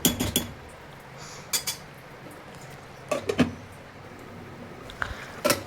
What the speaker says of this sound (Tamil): கருவேப்பிலை தூவிட்டு நம்ம மூடி வச்சிடலாம்.